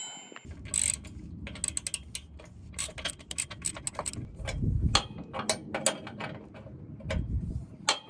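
Hand ratchet clicking in repeated bursts while tightening bolts on rock sliders fitted to a Jeep Wrangler, sharp metallic pawl ticks close by with short pauses between strokes, no talk.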